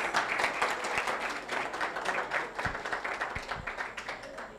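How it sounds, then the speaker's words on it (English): An audience at a youth innovation challenge finals claps in a lively round of applause, with dense, uneven hand claps and a few sharp individual claps standing out, lasting several seconds at moderate volume. "Can you give yourselves a round of applause, please?"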